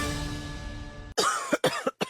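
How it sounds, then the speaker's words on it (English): A person coughs in a NyQuil radio advert: about four harsh, close cough bursts in quick succession after a stretch of low steady background hum. "I can't sleep with this cough."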